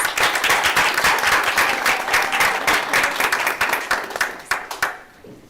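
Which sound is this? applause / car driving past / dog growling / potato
applause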